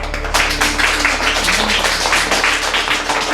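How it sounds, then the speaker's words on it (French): A room of people clapping steadily through a drama scene, a dense, even patter of hands with a low hum underneath, no clear voices over it. "Applaudissez"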